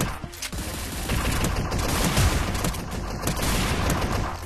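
Dense, continuous gunfire from the VR shooter Strike Rush on Meta Quest 3, with rapid overlapping shots forming a steady fusillade that runs loud and unbroken through the whole stretch.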